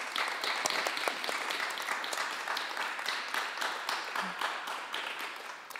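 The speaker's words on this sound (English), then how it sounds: "please a warm applause for our four panelists" Audience applause for four panelists at the close of a youth work panel discussion in Offenburg, a dense steady roar of many hands clapping that holds evenly throughout.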